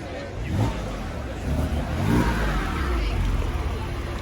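A Porsche 997.1 Carrera 4 pulling away from a Cars and Coffee meet in Oyster Bay, its flat-six engine rising under a voice amid crowd chatter outdoors.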